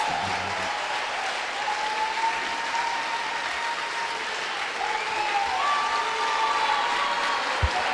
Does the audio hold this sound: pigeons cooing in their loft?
no